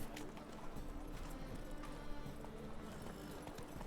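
Horse hooves clip-clopping at a run in The Witcher video game, a steady close rhythm of hoofbeats over continuous game background noise, with faint talk mixed in.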